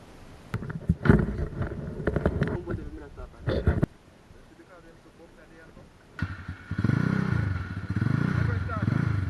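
A motorcycle in Jamaica is ridden off as a learner releases the clutch. Speech comes first, then a quiet pause, then the engine rises into a loud, wavering rev that carries to the end.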